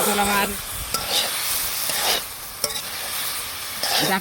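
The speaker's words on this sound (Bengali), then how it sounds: "এই ডাঁটা পটলটাকে আমি মশলায় কষিয়ে নিব।" Drumsticks and pointed gourd are stir-fried in spice paste in a pan, giving a steady close sizzle and hiss. Scraping stirs from a spatula cut in now and then, and there is no talk.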